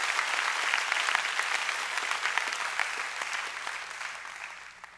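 Church conference audience breaking into sustained applause, a dense wash of many hands clapping that holds steady and then begins to taper off toward the end.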